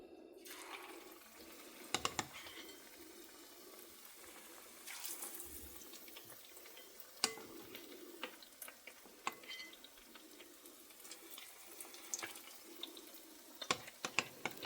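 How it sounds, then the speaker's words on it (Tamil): Eggs frying in hot oil over a medium flame for egg bajji, a faint steady sizzle and crackle with occasional pops and clinks, close and quiet throughout. "எண்ணெய் ஒன்ஸ் சூடானதுக்கப்புறம் மிதமான தீயில் வச்சுக்கிட்டு இந்த ஒரு முட்டையை அதில் எடுத்து போட்டு நம்ம பொரிச்சு எடுக்க போகிறோம்."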